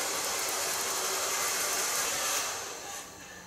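A hair dryer blows steadily during a salon cut-and-colour session, a loud continuous broadband rush that eases slightly near the end, with no talk over it.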